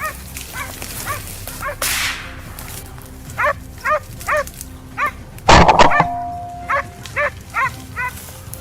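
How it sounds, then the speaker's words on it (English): A hunting hound barks frantically from reeds during a wild boar hunt, a run of short, sharp, evenly spaced yelps at middle distance, broken midway by a single loud crack. "the hound's frantic barking echoed from the reeds"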